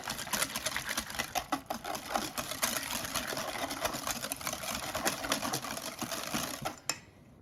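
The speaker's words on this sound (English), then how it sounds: "I'm gonna whisk that together, incorporate it." A whisk beats salad dressing ingredients in a bowl, a rapid, rattling clatter of strokes that runs steadily with small surges, close and fairly quiet, then stops.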